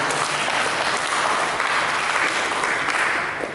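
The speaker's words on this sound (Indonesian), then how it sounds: "Berikan tepuk tangan bagi Yesus." A church congregation claps together in a dense, sustained burst of applause that fades slightly near the end.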